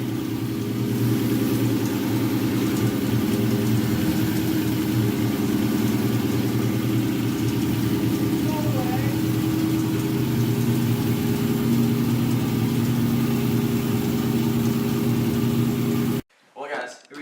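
Car engine idling with a lifter ticking fault, a steady mid-pitched rumble with faint rapid ticking running through it, close and constant before cutting off near the end.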